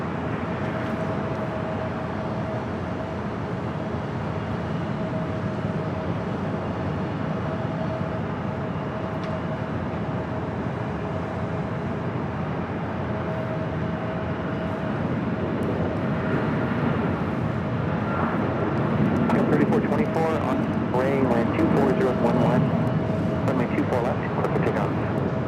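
An Airbus A320neo at LAX airport is heard as a distant jet roar that rises gradually over the clip, with a steady whine underneath and a louder rushing swell toward the end.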